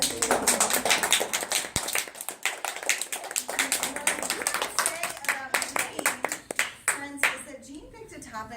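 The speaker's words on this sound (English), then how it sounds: "Let's give Jeanne a round of applause" A crowd claps steadily for several seconds, a dense patter of hand claps, with a few voices heard faintly under and after it.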